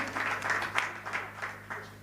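An audience clapping during a Marathi kirtan, a short burst of scattered, moderately loud applause with a steady rhythm of claps that fades slightly toward the end.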